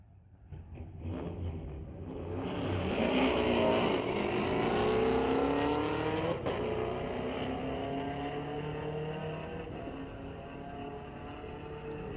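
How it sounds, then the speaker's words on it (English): Chevrolet Camaro launching down a drag strip at a night street-legal race meet, its engine swelling loud and rising in pitch as it pulls away, then fading into the distance, heard from the spectator side. "Love the sound of that Camaro."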